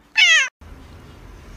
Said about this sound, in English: If you're happy and you know it, say meow.